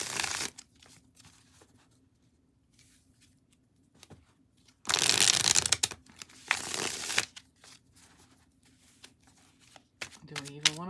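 A deck of tarot cards being shuffled in short, crisp bursts, with one long loud riffle in the middle, between quieter stretches of handling, and a voice speaking faintly at the end.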